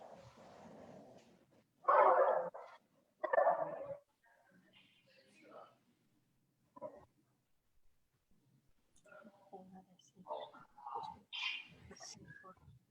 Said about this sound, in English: This is my dog Winston, who in proper form is barking